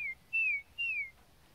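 A person whistles an imitation of a tufted titmouse song, three clear, close, descending slurred notes in an even rhythm against a quiet background.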